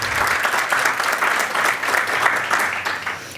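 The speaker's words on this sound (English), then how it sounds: "Thank you for applause" Audience applause welcoming guests at an opening ceremony, brisk clapping with slight swells in loudness across a few seconds, no voices over it.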